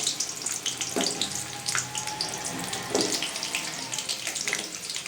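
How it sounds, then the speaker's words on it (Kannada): Onions frying in hot oil in a pan crackle and sizzle continuously, a close, bright hiss with scattered pops and a few louder spits. "ಫ್ರೈ ಮಾಡೋದಕ್ಕೆ ನಾವು ಈರುಳ್ಳಿ ಆ್ಯಡ್ ಮಾಡ್ಕೋಬೇಕು ಎಣ್ಣೆ ಒಂದು ಸ್ವಲ್ಪ ಕಾಯಿಸ್ಕೋಬೇಕು"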